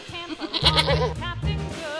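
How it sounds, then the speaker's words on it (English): A goat bleats loudly in a wavering, nasal cry lasting over a second, close to the microphone, with a brief second bleat near the end. "Goat."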